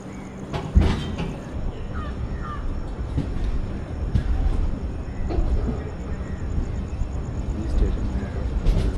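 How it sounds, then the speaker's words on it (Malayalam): Mangalore Express train pulling out of Feroke railway station, a steady low rumble of rolling wagons heard from aboard, with crows cawing nearby and brief voices in the background. "ട്രെയിൻ അവിടെ നിന്നും പുറപ്പെടുകയാണ്."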